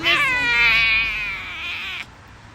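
A cat lets out one long, loud, drawn-out meow or caterwaul close by, holding its pitch for about two seconds before cutting off.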